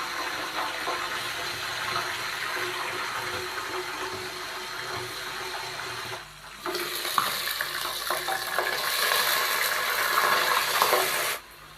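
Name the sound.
water added to golden-fried onions in a covered pot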